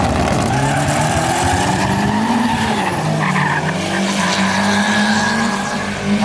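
An Omega turbo car launching at a drag race: a loud, sustained engine roar that rises in pitch, with tire squeal and skidding, heard close up and continuous throughout.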